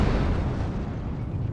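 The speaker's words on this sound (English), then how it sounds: "The sound of an explosion." Volcano eruption explosion in the survival video game Tribe: Primitive Builder: a sustained, heavy, low rumbling blast that stays dense and loud across the whole clip, with no voices over it.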